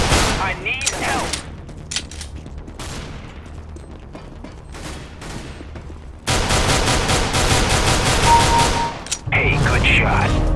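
Gunfire in a Demolition match on a bank map, with dense bursts of shots, sharp single cracks and a sustained loud volley in the second half, while players talk over the action.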